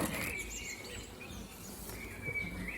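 Honey bee colony buzzing inside a hive with a queen excluder, a continuous fairly loud droning hum with shifting tones from many bees close by, and no voices.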